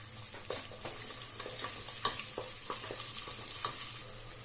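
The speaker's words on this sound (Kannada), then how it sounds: "ಕಟ್ ಮಾಡಿ ಇಟ್ಕೊಂಡಿರೋ ನಾಟಿ ಈರುಳ್ಳಿನ ಹಾಕೋತಾ ಇದ್ದೀನಿ ಹಾಕೊಂಡು ಗೋಲ್ಡನ್ ಬ್ರೌನ್ ಕಲರ್ ಬರೋವರೆಗೂ ಫ್ರೈ ಮಾಡ್ಕೊಳ್ಳಿ" Chopped native onions frying in oil with spices for mutton biryani, a soft continuous sizzle broken by repeated scraping stirs of a spoon in the pan, fairly quiet and close with no voices.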